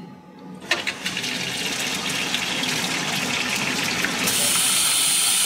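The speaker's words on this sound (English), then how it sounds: "So the first thing to do is just do the jet of water." Water jet of a wire erosion machine bursts on after a short quiet moment and then gushes steadily and loudly, a continuous hissing spray that stays constant to the end.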